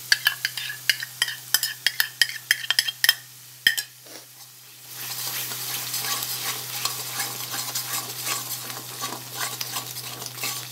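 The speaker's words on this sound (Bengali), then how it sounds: "ভালো করে নেড়ে চেড়ে" A spoon stirs masala with whisked yogurt in a pan while cooking prawn and okra, giving a run of sharp scrapes and clinks, then a steady close sizzle of frying takes over.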